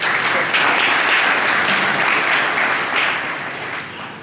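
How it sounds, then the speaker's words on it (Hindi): Loud, sustained clapping from the audience at an admission counseling session, welcoming the commandant onstage: a thick, even roar of many hands, close and full, tapering slightly toward the end. "एक बार जोरदार तालियों से।"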